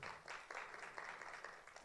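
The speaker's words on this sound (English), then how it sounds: "A round of applause for Ms." Audience applause for a candidate at a Kenyan vice-presidential debate hosted by FIDA Kenya and the Law Society, steady clapping from a crowd heard at moderate distance and fairly faint, lasting a couple of seconds without talk.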